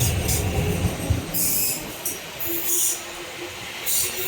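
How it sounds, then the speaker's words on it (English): A non-stop MTR East Rail Line train rolls through Kowloon station, a steady rumble of wheels and railcars with intermittent high squeals and a faint tonal whine, continuous and fairly close. "A non-stop train is passing through the station."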